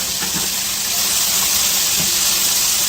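Garlic, paprika and spices cooking in palm oil for a Brazilian shrimp moqueca, a loud continuous steamy sizzle with faint clinks underneath.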